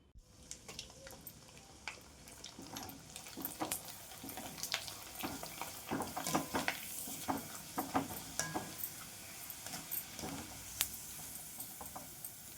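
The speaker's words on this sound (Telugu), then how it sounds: "ఇవి డీప్ ఫ్రై చేసి కూడా చేస్తాను ఇప్పుడు" Sun-dried tomato vadiyalu deep fry in oil, a soft, crackling sizzle with irregular pops and bubbling bursts that build over the stretch, close and fairly quiet, with no voices.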